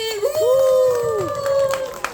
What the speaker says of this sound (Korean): 환호성도 같이!